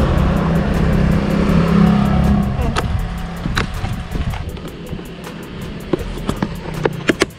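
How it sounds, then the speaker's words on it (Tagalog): An all-new Toyota Fortuner rolls into a garage, its engine a low rumble that fades as it settles, followed by a few sharp clicks and knocks toward the end. "so naipasok na natin sa garahe yung sasakyan"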